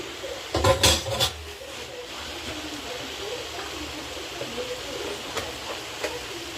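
Ginger garlic paste going into a pan of oil-fried chicken, with loud metal clinks and scrapes of a spoon on the pan near the start, then a steady low sizzle and scattered lighter clatter, a voice talking faintly underneath.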